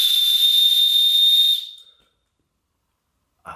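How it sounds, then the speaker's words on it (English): A notched survival whistle from a day-hike pack sounds one shrill, steady blast for about a second and a half, then cuts off into silence. "High-pitched whistle, so you know that could really come in handy if you get lost"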